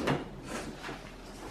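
A kitchen drawer slides open with a short scraping rumble near the start, followed by faint rustling and handling noise close by.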